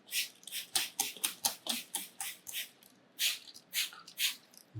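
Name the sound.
spraying luminol from a spray bottle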